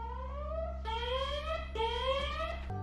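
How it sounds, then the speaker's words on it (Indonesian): A film's electronic alarm warning of a solar storm sounds as two rising, sweeping tonal wails over a low steady machine hum, loud and close, with no talking. "tiba-tiba saja alarm berbunyi yang menandakan badai matahari"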